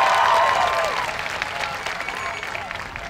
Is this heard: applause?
yes